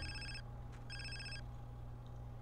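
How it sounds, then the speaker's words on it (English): A phone rings in the video game GTA San Andreas: two electronic ring bursts with a short gap, over a quiet low game hum and no speech. "Let me wait for a phone call. Call me now."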